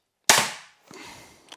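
An X-Bow FMA Supersonic Tactical crossbow fires a test shot with a single sharp, loud snap that decays quickly, followed by a softer thud and a faint rattle.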